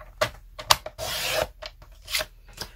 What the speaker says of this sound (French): je vais prendre mon papier uni et je vais le découper